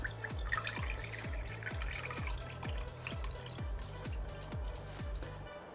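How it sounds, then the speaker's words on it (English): Water pours from a container into a tarantula's water dish, a regular series of gulping glugs about twice a second over a trickling splash, close and fairly quiet with no talking. "So I'm just going to fill up his water dish."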